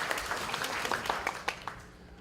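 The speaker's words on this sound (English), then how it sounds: "let's clap for her" A small audience claps for a speaker, a brief scatter of hands rising and then fading out, fairly quiet and without talk.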